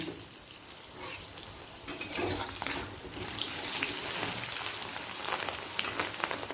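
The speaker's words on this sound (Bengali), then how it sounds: "অপর দিকটাও লাল করে ভেজে নেব" Bubbling, crackling frying of katla fish egg fritters in hot oil in a kadai, close and moderately loud, swelling after the first second and continuing steadily without speech.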